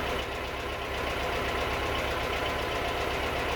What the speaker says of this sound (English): that's how you can manipulate your idle to make it stay a little bit more stable